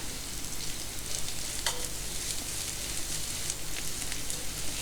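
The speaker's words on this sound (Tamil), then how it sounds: "எண்ணெய் சூடானதும் நீல வாக்கில் நான் அறுக்கி வச்சுருக்கேன் மீடியம் சைஸ் ஒரு வெங்காயம் சேர்த்துருக்கேன் இந்த வெங்காயம் நல்லா வதங்கட்டும்" A sliced medium onion sizzles and crackles steadily in hot oil in a pan, a dense close hiss with a brief clink partway through.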